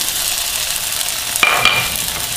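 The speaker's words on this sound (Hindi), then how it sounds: "बस इसको थोड़ा सा फ्राई करेंगे" Potatoes fry in a pan with a steady, close sizzle, broken by a couple of sharp clinks from stirring.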